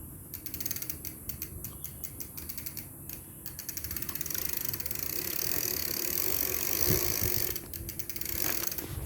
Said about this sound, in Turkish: Duyuyor musunuz arkadaşlar göbek sesini?